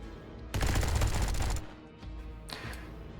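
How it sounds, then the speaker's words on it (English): A heavy automatic weapon in the video game Underrail fires one loud, fast burst of about a second, followed by a couple of fainter, sharper shots. "Zone rats are gonna hear all the gunfire and will start making their way towards here."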